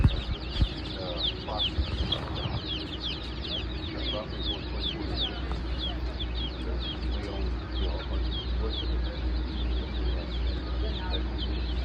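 Farm chickens raised for sale cluck steadily and overlap at close range over a constant low hum, with faint voices now and then.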